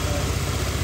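A used motorbike engine idles quietly and evenly, a steady low rumble heard up close with no talking.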